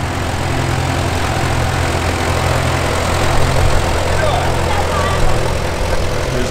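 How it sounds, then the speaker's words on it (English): A Farmall Super M tractor in a tractor parade idles steadily nearby, a low continuous rumble with slight fluctuations throughout. "Here's a Farmall Super M."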